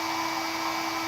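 A hair dryer blows a steady, loud, continuous whoosh with a constant hum while melting ice buildup inside a frosted refrigerator, with no talk.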